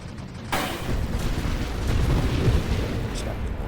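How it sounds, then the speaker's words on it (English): Game explosions in the space shooter Nova Drift: a sudden loud broadband burst, then a sustained rumbling roar of overlapping blasts. "We were caught in one of those explosions."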